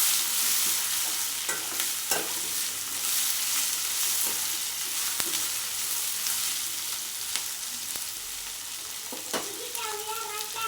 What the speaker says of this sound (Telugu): వేసి ఒక 2-3 నిమిషాలు బాగా ఫ్రై అయ్యాక ఇప్పుడు 2-3 నిమిషాల తర్వాత అందులో బాగా కలిపి